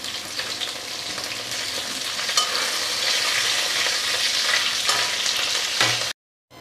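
Curry spices sizzle and crackle steadily in the same hot oil left from frying fish, stirred in a pan. The frying noise is close and continuous, with no voices over it.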